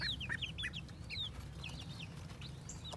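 High, thin peeping calls from a baby duckling repeat in quick bursts over a low background rumble, close and fairly faint.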